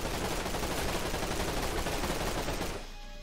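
Gunfire in the game Knights of the Deep: a dense, continuous roar of rapid shots that fills almost the whole stretch before dropping off abruptly near the end, loud and with no talking.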